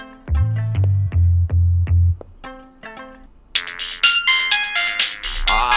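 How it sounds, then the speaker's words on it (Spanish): An old-style telephone rings in repeated electronic trills, loud and close, followed by a brighter, busier ringtone melody with no talking over it. "¡Oh, esos teléfonos, güey! Como los de antes"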